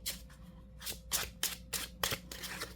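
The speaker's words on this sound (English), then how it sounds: "And when you shuffle it, it gives you this ASMR effect." Soft, quick riffling bursts of plastic-coated playing cards being shuffled, repeated in a loose rhythm, close and fairly quiet with no talking.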